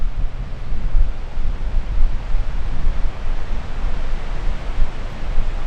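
A steady, loud wind roars across an exposed mountain top and pummels the microphone, a rushing, surf-like wash that rises and falls in gusts without any voices.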